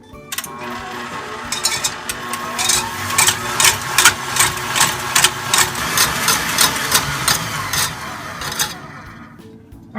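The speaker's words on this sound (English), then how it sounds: "I'm going to mix this until it has the consistency of a meringue" A steady motorized whir from an electric mixer whipping a vegan chocolate mousse mixture toward stiff meringue peaks, loud and close with a rhythmic rattling pulse as the beaters move through the bowl.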